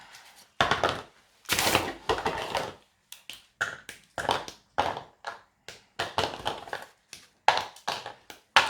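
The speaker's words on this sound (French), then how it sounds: "je vais casser mon chocolat." Chocolate snapped into pieces over a bowl while baking a moist chocolate cake: a steady run of sharp, dry cracks and clicks, close and fairly loud, in irregular bursts with short pauses between.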